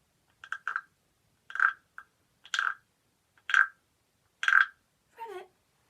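A medium wooden frog instrument scraped with a stick gives a series of about six short ratchety rasps, evenly spaced, close and clear, each a quick grating croak.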